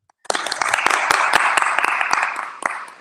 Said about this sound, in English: Can everybody out there give Karen a round of applause?